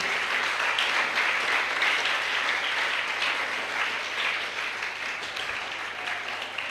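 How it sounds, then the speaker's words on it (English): A summit audience applauds a speaker, a full, continuous roar of many clapping hands that holds steady and loud, easing only a little toward the end. "Now, a round of applause for Mr. Levinus Ibe"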